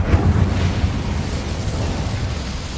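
The Incendio fire spell is cast in Hogwarts Legacy, a loud, rumbling burst of flame that booms and roars, then settles into a dense, sustained crackle.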